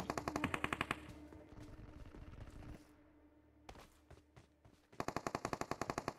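Automatic gunfire from teammates fighting in the mobile battle royale game BGMI, with rapid bursts of loud, evenly spaced shots at the start and end and scattered single reports between, no talk.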